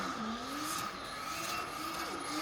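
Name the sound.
car doing a burnout at burnout competition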